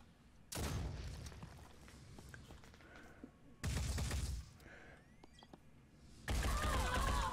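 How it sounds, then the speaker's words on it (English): Alien enemy gunfire in the tactical game Phoenix Point comes as three loud, dense bursts of shots and booms separated by quieter stretches of rumbling ambience. "That was him shooting back, right?"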